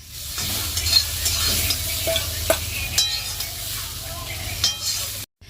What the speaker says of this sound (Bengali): ডালটা ঘেটে নিচ্ছি ঘুটনি দিয়ে